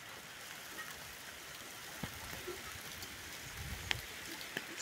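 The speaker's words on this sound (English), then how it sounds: "It's raining." Steady light rain patters on surfaces, a soft continuous hiss with a few sharper drops landing close by.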